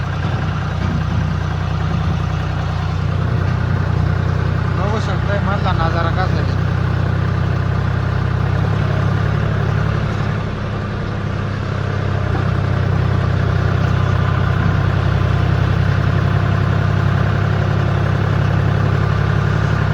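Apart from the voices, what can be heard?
tractor engine running while driving through forest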